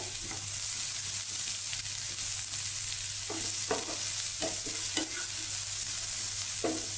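Grated carrot and onion sauté in a pan with a steady, close frying hiss while a spoon scrapes and stirs in several short bursts.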